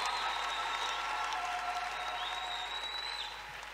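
A church congregation applauding and cheering at a youth prayer gathering, a dense, steady wash of clapping that fades slightly toward the end.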